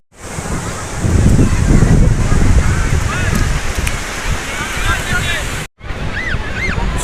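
Sea waves breaking on the stone-lined shore at Digha, a loud continuous wash of surf with strong wind buffeting the microphone, seabird-like cries faintly above, and a brief cut near the end.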